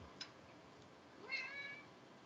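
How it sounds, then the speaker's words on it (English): A pet cat gives a single faint, short meow in the background of a quiet room, rising and falling briefly after a small click. "you might hear a little meow in the background"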